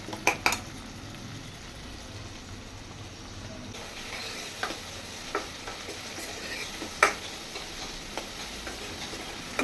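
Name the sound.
onions and tomatoes sautéing in a pan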